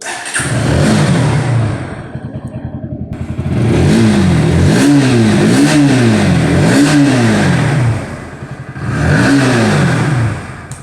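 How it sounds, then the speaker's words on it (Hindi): A Bajaj Pulsar NS160 motorcycle engine idles with a loud exhaust note up close, then revs hard in a quick series of rising and falling throttle blips, drops back to idle, and revs again near the end. "अब जो NS है इसकी भी हम लोग यहाँ पर थोड़ी सी साउंड सुनने की कोशिश करते हैं"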